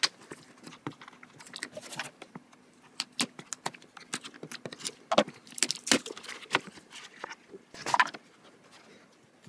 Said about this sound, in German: Ich werde das erstmal auspacken.